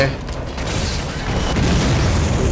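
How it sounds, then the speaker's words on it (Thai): A missile launches and blows up in the video game Lost Planet, a loud rumbling boom with mechanical clatter that swells and holds through the moment. "ยิงมิสไซล์ใส่เฉย"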